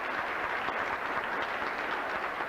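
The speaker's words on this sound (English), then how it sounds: "So we ought to give him an extra round of applause for making it out" Audience at the June 1997 Coolidge High School graduation applauding the salutatorian, a steady, dense wash of many hands clapping at some distance, fairly quiet, with no talking over it.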